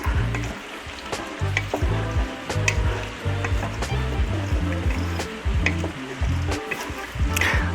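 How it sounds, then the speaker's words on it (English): Corn sizzles and crackles steadily in a hot pan while a wooden spoon stirs and scrapes it in repeated rhythmic strokes, loud and close throughout. "I'm gonna use the same wooden spoon for my corn."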